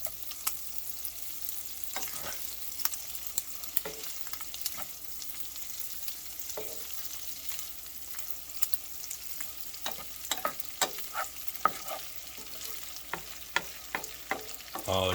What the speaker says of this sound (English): you're going to want to add your butter. You're going to want to melt that.